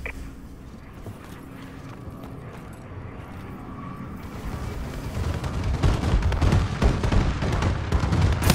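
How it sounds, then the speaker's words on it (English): Call of Duty: Advanced Warfare friendly bombing run, its explosions building into a dense, loud rumbling barrage that swells over the final seconds after a quieter, noisy start. "Friendly bombing run incoming."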